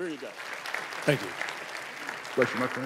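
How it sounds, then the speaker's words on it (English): A church audience claps in a steady, moderate wash of applause while someone speaks briefly over it in a reverberant hall. "Now you can clap."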